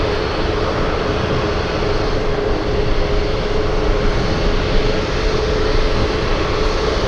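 A Southwest Airlines Boeing 737 jet roars as a loud, steady, broadband engine rush at an airport in Anchorage. The sound holds constant and close throughout with no talking.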